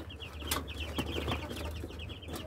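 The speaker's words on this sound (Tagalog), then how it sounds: "crossbreed ng Rhode Island saka native chicken" Three-week-old chicks from a Rhode Island and native chicken crossbreed give rapid high peeping chirps in quick repeated runs, close by over a low background hum, with no talk.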